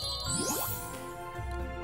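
Bell jingle from the puzzle dating game Huniepop, a bright tinkling ding sweeping upward and fading over about a second, heard clearly over a steady background music bed.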